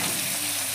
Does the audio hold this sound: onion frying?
yes